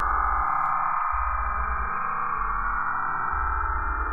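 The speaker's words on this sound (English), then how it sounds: "Here's the sound of a healthy cell." Sonified acoustic vibrations of a healthy cell produce a steady synthetic hum with layered sustained tones and low pulsing blocks that switch on and off, even in loudness from start to finish.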